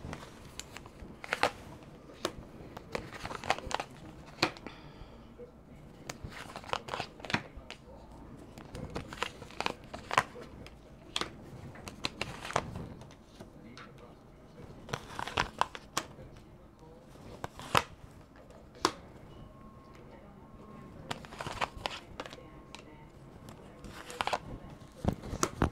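A deck of tarot cards is shuffled over and over at close range in a quiet room, giving dry papery riffles, crinkles and soft slaps in uneven bursts throughout.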